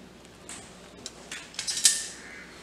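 A sandwich goes into a preheated electric griller with a few quiet metallic clinks and clatters, the light taps growing busier toward the end with no talking.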